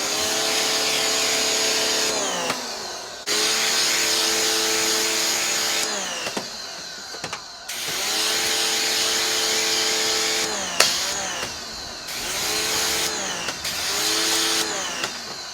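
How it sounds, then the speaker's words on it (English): A FOTING electric pressure washer rated 4500 PSI and 3.2 GPM sprays down a car through its wand, its motor whining loudly in long bursts that stop and restart several times, with brief quiet gaps between. "Come back with the wand and give it a good spray down."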